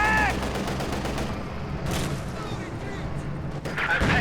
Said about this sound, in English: they're going to immediately encountering that T-34, opening up there with high explosive shells